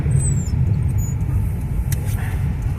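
A car rolls along a city street in the Saltivka district of Kharkiv, its engine and tyre rumble forming a steady low roar from inside, with faint brief squeaks and clicks above.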